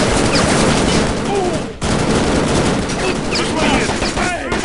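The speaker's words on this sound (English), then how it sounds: "So I'm gonna waste all my ammo on shooting friendlies." Dense gunfire from the video game Shadow Ops: Red Mercury: loud, continuous automatic bursts and overlapping shots, briefly breaking off midway before resuming at full intensity.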